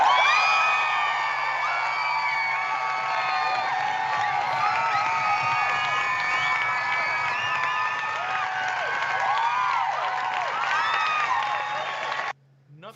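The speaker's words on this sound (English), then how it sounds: "Nothing like the applause of our adoring fans to give me a little jolt and a wake up." Loud, sustained applause with whoops and cheering from a crowd of fans, dense and continuous for several seconds before cutting off abruptly near the end.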